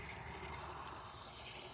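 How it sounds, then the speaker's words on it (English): Hot water released by opening a pressure relief valve while winterizing, a steady rushing and hissing flow of liquid, close and continuous with no talking. "just by opening that pressure relief valve"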